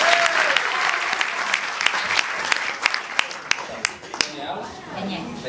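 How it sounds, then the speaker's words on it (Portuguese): A live audience in a theater breaks into loud, sustained applause, dense clapping spread across the room with a few sharper claps standing out, before trailing off near the end. "Uma salva de palmas pra ela."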